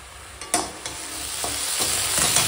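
Mango chutney being stirred in a pan, soft scraping strokes at a steady rhythm over a low, continuous sizzle, close and moderately loud.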